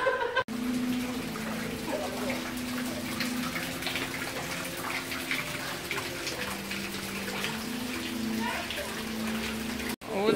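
Water rushes in a steady flow past the site of an old water-powered saw in Pavliani Park in central Greece, a constant gushing wash with a faint tonal hum and people talking over it.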